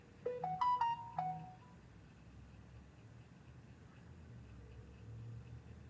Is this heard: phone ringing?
yes